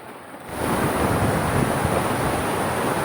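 Strong floodwater current rushing past a broken wall toward a river, a loud broadband roar that surges up after a quieter start and then holds steady, with some wind noise and no talk.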